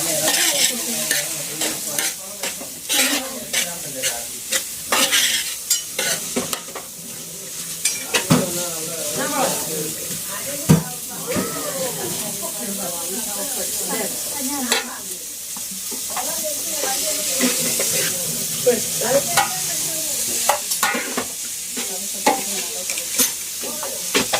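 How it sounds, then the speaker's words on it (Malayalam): Chicken curry stirred as it fries in a pan, with a constant hiss of sizzling and repeated scraping and clinking of a spoon against the pan, close and fairly loud, with occasional background voices. "നന്നായിട്ട് ഇളക്കണം."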